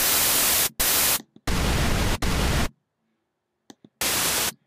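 Several loud bursts of harsh, hissing synthesizer noise, cut off abruptly with short silent gaps between them, no voices.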